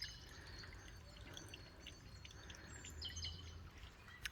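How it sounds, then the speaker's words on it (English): Water flowing in a stream right outside a house, a steady soft wash with light trickling and dripping, some faint bird chirps above it, with no talking. "I love standing here, just meditating with this water."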